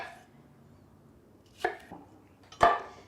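Tomatillos cut into quarters with a knife on a board, heard as a few sharp, close chopping knocks separated by quiet pauses.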